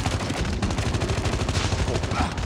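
Rapid automatic gunfire from shooting zombies in Call of Duty Mobile, a dense, loud, continuous burst of shots spanning the stretch, close and unbroken.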